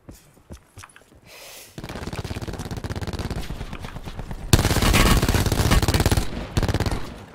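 Gunfire in Call of Duty: Blackout at Rivertown: sustained automatic bursts and scattered shots that grow louder and denser midway, with a near, heavy barrage before easing slightly, no talk over it.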